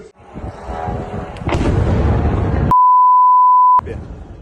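Heavy booming missile-strike blasts rumble loudly, a broad roar of at least five explosions, cut off abruptly by a long steady electronic beep tone.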